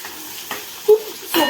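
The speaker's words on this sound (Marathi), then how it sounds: "आणि मग आपण टाकूया थोडासा हिंग." Asafoetida dropped into hot oil while tempering dal gives a short, soft sizzle with scattered stirring taps and a couple of louder clacks of a spoon on the pan, close up and with no talking.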